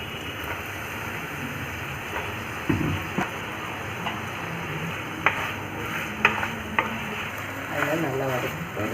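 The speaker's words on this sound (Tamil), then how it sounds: "கத்திரிக்காயோட கலர் மாறுற வரைக்கும் நல்லா வதக்கிக்கோங்க" Eggplant and drumstick pieces being sautéed in a pan, a low steady sizzle under scattered scrapes and clatters of a spoon stirring, close up, with occasional faint background voices.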